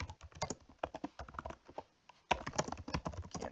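Typing on a computer keyboard, a close, quiet run of quick irregular key clicks in bursts, with a brief pause before the tapping resumes.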